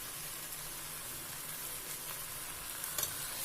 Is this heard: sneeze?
no